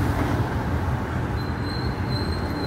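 LRT light rail train passing near a market street in Quezon City: a steady rumbling roar of wheels on track with a thin high metallic squeal, fairly close and continuous.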